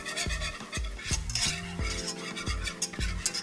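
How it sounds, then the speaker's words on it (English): A wire whisk stirring roux for gravy in a metal pan, steady scraping and clinking strokes against the pan bottom in a quick rhythm, close up, with faint sizzling underneath and no talking. "With that wire whisk, we're going to whisk that in."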